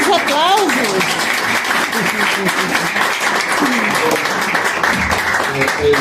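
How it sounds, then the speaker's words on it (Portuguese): An audience applauds at a tribute ceremony honouring a diplomat as a writer, clapping mixed with loud talking and voices over the steady background of hands. "Muitos aplausos!"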